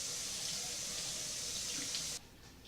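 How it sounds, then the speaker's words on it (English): Water from a kitchen tap runs steadily as a cut onion half is rinsed under it, a continuous close hiss that stops abruptly near the end, leaving a quiet room. "Rinse it off a little bit."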